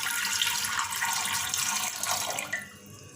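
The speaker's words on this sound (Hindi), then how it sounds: "जैसे मैंने प्रेशर कुकर लिया है, इसमें नीचे हम ये स्टैंड रख देंगे। ऐसे स्टैंड हर घर में ही होते हैं। और इसमें मैं पानी डाल रही हूँ।" Water pours into a pressure cooker fitted with a stand at the bottom in a home kitchen, a steady close splashing stream that tapers off near the end, with no talking.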